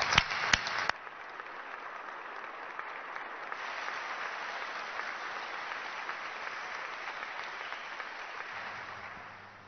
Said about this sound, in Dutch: Ik vraag u een applaus voor deze mensen.